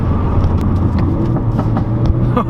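A 2017 Ford Focus RS engine blips during a rev-matched downshift, loud and close, with a steady low drone and brief revving bursts over about two seconds.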